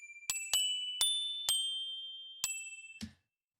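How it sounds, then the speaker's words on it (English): Four small toy bells from a 1938 recording ring as bright, shimmering dings, five separate strikes with lingering tails, then a short muted clunk at the end. "these are 4 little toy bells."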